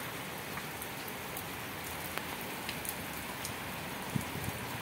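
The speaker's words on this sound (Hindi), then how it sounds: "बारिश कंटिन्यू चलती जा रही है" Steady, continuous rain falling on surfaces, a dense even hiss with scattered individual drops tapping throughout.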